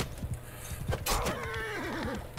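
A horse whinnies in Mount & Blade II Bannerlord, a loud, wavering neigh that rises sharply and then trembles downward over about a second. Faint clip-clop and game noise run beneath it.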